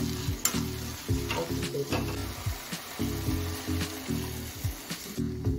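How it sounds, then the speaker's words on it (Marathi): Vermicelli cooks in a pan with a little water, sizzling and bubbling steadily while a utensil stirs it with repeated scraping strokes, close and fairly loud. "यामध्ये थोडंसं पाणी घातलेलं आहे आपण। आता थोडंसं शिजवून घेऊया।"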